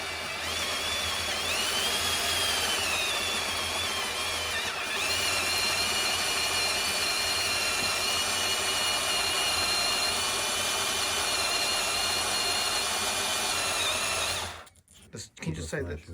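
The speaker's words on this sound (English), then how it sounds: "I notice that this drill, it blocks up, so you have to keep resetting it" A power drill whines continuously at high speed, loud and close, with slight pitch wavers, cutting off near the end into a few clattering knocks.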